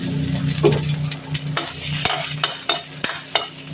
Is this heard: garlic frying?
yes